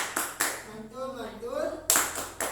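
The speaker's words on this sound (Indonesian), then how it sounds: "Tepuk mantul buat kita semua" A group claps out a rhythmic clapping chant, sharp clap bursts spaced in a loose pattern with a voice speaking in the middle gap between them, close and moderately loud.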